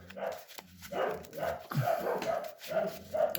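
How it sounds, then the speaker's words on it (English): Excited household dogs barking in the background of an indoor card-game session, short repeated yips and barks scattered across the clip at moderate distance. "I do apologize for all the dog barks"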